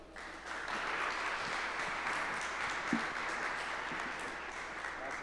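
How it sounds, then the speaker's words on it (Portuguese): Sustained audience applause welcomes a speaker onto the stage at a talk, a dense steady wash of many hands clapping that holds at an even level throughout. "Recibámoslo con un fuerte aplauso"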